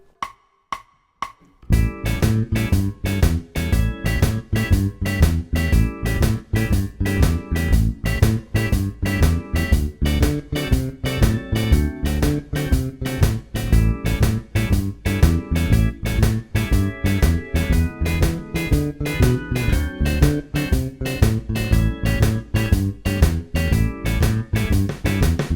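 A bass guitar plays a standard 12-bar blues with a drum beat, steady and driving. After a few sparse notes, a continuous loud groove begins and repeats evenly to the end.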